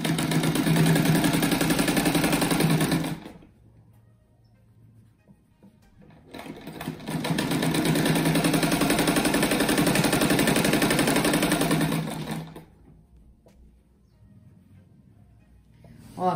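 A sewing machine stitches a round rug in two long runs of fast, even whirring, each lasting a few seconds and separated by quiet pauses, heard up close with no speech.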